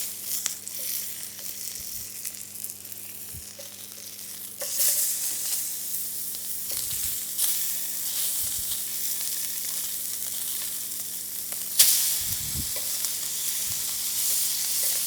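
Pork chop fat edge searing in a pan, a continuous close sizzle and crackle with occasional scrapes and knocks of the pan, swelling louder in bursts.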